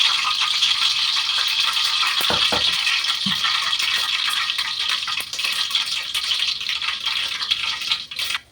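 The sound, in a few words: mustard seeds popping in hot oil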